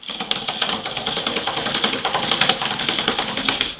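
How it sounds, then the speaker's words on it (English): Rapid mechanical clicking from an Odin M12 Sidewinder speed loader wheel being cranked, a steady ratcheting patter of dense, evenly spaced clicks close by with no voices. "you can start to hear that those clicks are getting louder"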